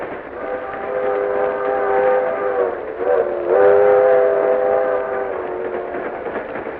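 A train runs steadily in a radio drama sound effect, its horn sounding in long sustained blasts over the rolling rumble of the cars, loud and close throughout.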